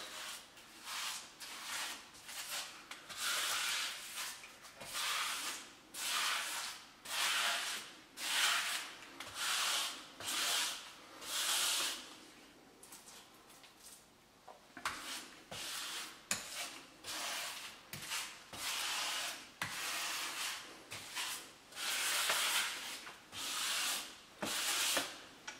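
Tile grout is worked into the joints between tiles with a float, giving rhythmic, close scraping and rubbing strokes in repeated bursts, fairly quiet and with no talking.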